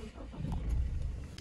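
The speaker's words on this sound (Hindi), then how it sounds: "तो गाइस अब जरा हम टेस्ट ड्राइव ले लेते हैं डाले की, चेक करते हैं हाउ इज इट।" Toyota Revo (Dala) 2022 pickup engine starting and settling into a low, rumbling idle, moderately loud and close, brief and without talk.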